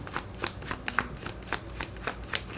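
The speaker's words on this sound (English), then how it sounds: "I ain't doing shit but shuffling cards" A deck of tarot cards riffled repeatedly, each shuffle a crisp papery burst in a steady rhythm, close and fairly quiet with no talking.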